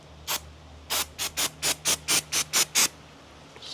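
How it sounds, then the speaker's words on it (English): An EternaBond aerosol cleaner sprays on an RV roof on a windy day in about ten short hissing bursts, one after another in a quick, even rhythm, close up with no talking. "I'm going to clean the edges with the EternaBond spray"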